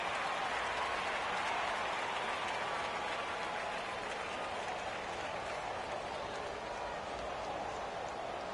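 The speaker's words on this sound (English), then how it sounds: "And the home crowd applauding." Home crowd applause from a PS4 football video game, a steady, dense wash of clapping and cheering that holds evenly throughout, with no break.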